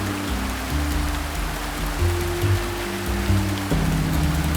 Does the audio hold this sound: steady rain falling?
yes